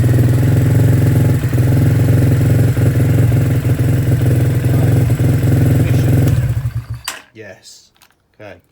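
A Lexmoto ZSB125 motorcycle, partly dismantled during a restoration, runs with a steady loud droning engine idle. The engine cuts out near the end, leaving brief quiet noises.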